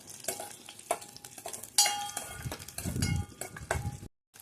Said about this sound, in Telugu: డ్రై ఫ్రూట్స్ వేయించుకోండి, దోరగా వేయించేసుకోవాలి